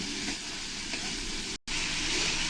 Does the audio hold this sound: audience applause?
no